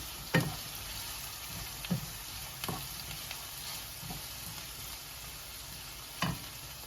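Chopped onions fry in a hot pan, giving a steady close sizzle with a few soft clicks and scrapes as they are stirred, and no talking.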